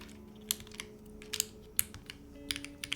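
Clicky typing on a custom mechanical keyboard with a poppy spacebar switch, sharp keystrokes landing in uneven bursts with small pauses, close and alone over a faint steady hum.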